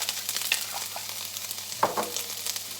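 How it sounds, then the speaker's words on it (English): Crushed ginger hitting a hot frying pan, crackling sizzle with a few scraping stirs of a utensil, close and continuous with no talking. "So I'm going to add a good teaspoon of ginger"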